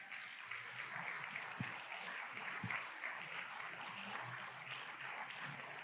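A church congregation applauds in a steady, sustained patter of many hands, soft and somewhat distant, with no voices over it.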